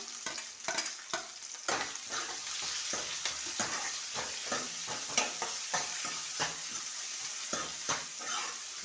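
Green chillies and onion fry in a pan for dal khichdi, a constant sizzle with regular rhythmic stirring scrapes throughout, no speech.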